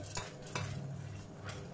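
A spoon stirs thick fruit syrup in a saucepan, producing soft scraping strokes over a low, steady bubbling simmer.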